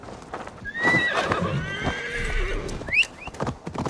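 A horse in Assassin's Creed Valhalla neighs with a loud, shrill whinny over rapid hoofbeats, followed by a second shorter neigh.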